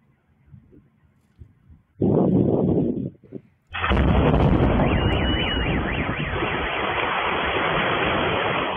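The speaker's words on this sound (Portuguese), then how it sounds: "E agora a explosão, né?" A sudden loud, broadband roar erupts and sustains like a large explosion, heard through a played recording, followed by continuous rumbling noise with a faint warbling tone above it.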